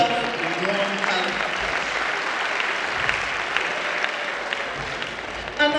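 A conference audience gives warm applause, dense steady clapping that fills the room at even volume, with a few sharper claps near the end.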